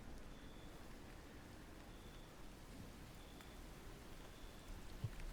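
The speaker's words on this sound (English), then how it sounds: "I like the rain effect." Rain falls as a sound effect in a Foundry virtual tabletop game: a steady, soft hiss of rainfall with no voices and a faint tick near the end.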